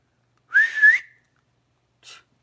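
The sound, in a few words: person attempting to whistle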